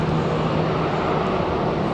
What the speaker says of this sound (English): Taxiing at 9 knots, coming this way.